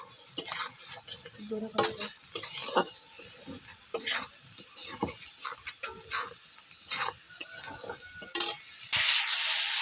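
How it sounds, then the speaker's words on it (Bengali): Garlic and mustard seeds fry in hot oil with a crackling sizzle under frequent stirring clicks and scrapes of a spoon against the pan. The hiss swells louder near the end. "তেল গরম হওয়ার পরে সরিষা দিয়ে আমি রসুন ভাজ দিছি"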